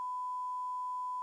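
A steady, pure electronic bleep tone holds for just over a second, loud and unbroken, masking whatever speech lies beneath.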